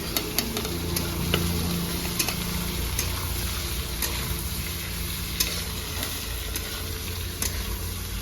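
Chopped onions frying with dried chilies and whole cumin: a constant crackling sizzle from the pan, heard close, with scattered sharp ticks and pops.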